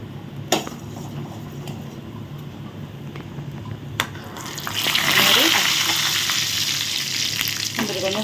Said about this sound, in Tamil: முந்திரி நல்லா வறுபடட்டும்